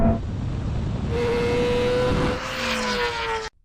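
A Ferrari SF90 and a BMW M1000RR motorcycle launch off the line in a drag race, a loud, close roar of engines climbing in pitch before cutting off abruptly.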